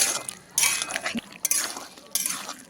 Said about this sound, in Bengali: চিনি দিয়ে নাড়াচাড়া করে